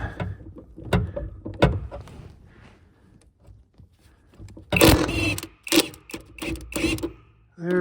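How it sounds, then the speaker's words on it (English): Impact gun hammering 15mm nuts off the suspension of a 2011 Ford Mustang during a shock and sway bar repair, with several short rattling bursts, the longest run near the end, between brief talk. "So I'm gonna try gunning these off real quick."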